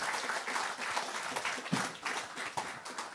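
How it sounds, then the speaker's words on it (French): Audience applause after a talk in a French lecture hall, a steady dense wash of many hands clapping that holds at an even level throughout, with no voices heard. "Merci, on vous applaudit."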